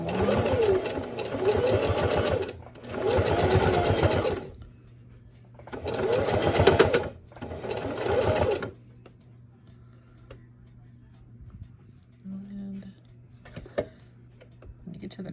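A sewing machine runs a straight stitch through repurposed jeans fabric for a Minnie Mouse mug mat, sounding in four steady motor bursts of rapid needle ticking, separated by short pauses, then falling quiet with faint handling noise.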